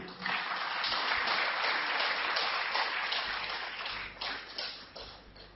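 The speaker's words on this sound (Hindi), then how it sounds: "आप जोरदार तालियों से उनका स्वागत करें।" Audience at a health lecture applauding to welcome a speaker, a faint, steady wash of clapping that rises quickly and then slowly thins out.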